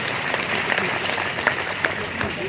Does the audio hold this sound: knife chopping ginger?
no